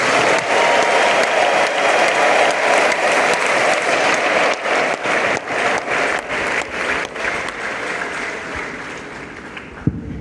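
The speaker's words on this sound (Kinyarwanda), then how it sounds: "nsabira amashyi n'impundu bikwiriye Pasiteri Theogene Niyonshuti." An audience at a church event applauds in a loud, dense burst of clapping that swells, then thins into more separate claps before fading.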